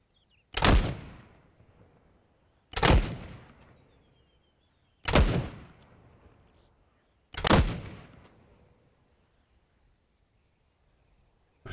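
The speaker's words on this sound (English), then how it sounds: "let's send a couple more mortars over there" Mortar and artillery fire in ArmA 3, four heavy booming blasts spaced roughly two seconds apart, each with a long rolling decay, over a faint insect-like background.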